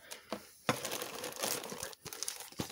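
Sticker sheet for a Modelroid Dynazenon model kit being handled in crinkly plastic packaging, producing close, continuous crackling and crinkling with a couple of brief pauses.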